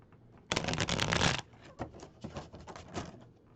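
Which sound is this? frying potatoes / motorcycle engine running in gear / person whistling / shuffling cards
shuffling cards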